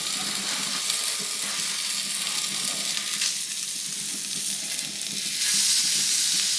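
Bacon-wrapped scallops sizzle steadily on a Weber Slate griddle, a dense, even frying hiss that swells slightly toward the end, close and with no voices.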